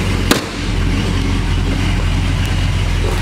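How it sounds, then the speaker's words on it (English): The engine of a 1969 Plymouth GTX runs at a steady, smooth idle with a low, even drone and a brief sharp click near the start. "Nice quiet engine, no noises in it, it sounds great."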